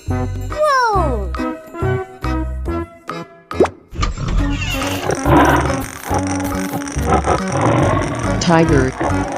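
Roar of a tiger in a 3D animal video game, a loud game sound effect layered over busy game music and jingles, with a voice chattering nearby.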